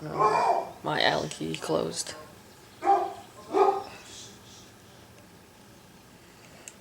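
A pet dog barks several times indoors, close by, in short sharp bursts mixed with a man's speech during a home repair job.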